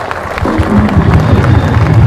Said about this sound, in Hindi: जोर से ताली बजाकर प्रभु को धन्यवाद।